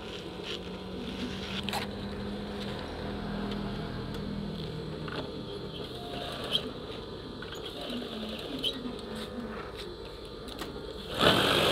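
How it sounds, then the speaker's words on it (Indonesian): A sewing machine stitches the bottom section of a curtain, its steady buzzing whir running continuously with a few small clicks and a short louder clunk at the end. "Jadi bagian ini yang kita jahit"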